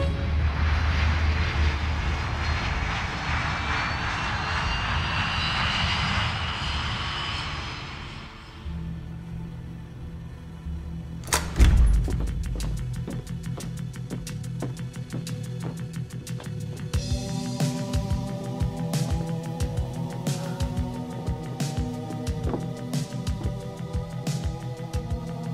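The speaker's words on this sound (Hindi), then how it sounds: "होटल ब्रावो 2201 उड़ान के लिए रास्ता साफ है" A jet airliner takes off: a steady engine roar builds and fades, then a thump and a long, rumbling whine with rattling tones continue, heard from inside or near the plane.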